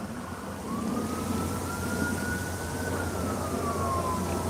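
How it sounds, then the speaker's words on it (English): A faint siren wails far off, one long slow rising and falling tone over a steady rumble of background noise. "we got some sirens in the distance"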